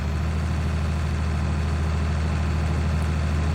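A farm tractor's engine in Farming Simulator, out at the fields for silage baling, runs at a steady low idle-like drone, loud and unbroken throughout, with no talk over it.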